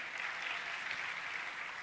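Steady applause from a crowd, an even wash of clapping heard from a distance, with no pauses.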